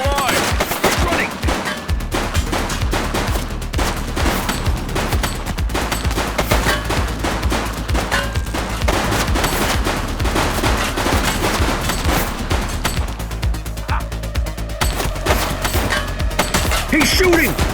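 A sustained firefight in The Precinct, a police video game, with loud overlapping machine-gun bursts and single shots crackling nonstop, briefly thinning near the end.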